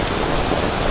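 Heavy rain pours down in Nha Trang as a dense, loud, unbroken hiss of drops striking surfaces close by, with no voices.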